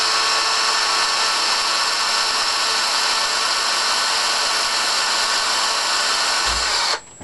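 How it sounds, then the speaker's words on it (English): A power drill back-drilling a bolt hole through plywood on a Sopwith Pup model fuselage, a steady loud broadband whir running nearly the whole time, alone, then cutting off abruptly near the end. "You get your hole, back drill it through the ply."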